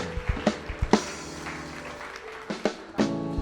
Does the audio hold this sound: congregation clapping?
yes